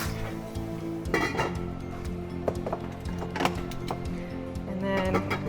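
Popcorn kernels are poured into a pot, giving a run of light, rattling clinks and ticks against the metal that come in small clusters, fairly quiet and close, with a faint steady hum underneath.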